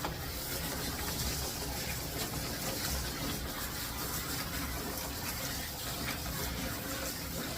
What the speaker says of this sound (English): I'm just warming the water up.